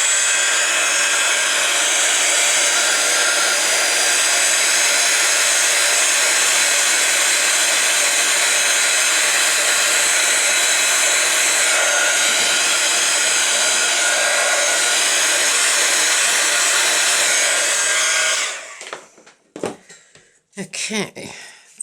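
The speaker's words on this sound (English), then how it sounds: "I'm just going to dry this off a moment." A hair dryer blows steadily and loudly at close range onto a journal page, a continuous roar that cuts off near the end, followed by brief handling sounds.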